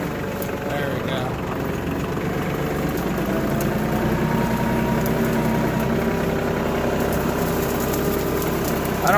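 A tractor engine runs steadily outdoors at a property where goal posts are being built, a continuous loud rumble with someone talking over it.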